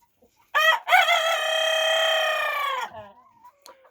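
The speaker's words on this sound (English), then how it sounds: "that tall one right over there is the one who's getting his crow on" A Naked Neck Turkin rooster crows once, loud and close, one long sustained call after a short opening note, with no talk over it.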